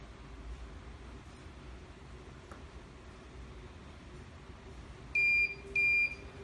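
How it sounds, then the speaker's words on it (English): Alarm on an eParrot distillation controller sounds two short, loud electronic beeps near the end, after a stretch of steady low background noise. "Column and boiler alarm."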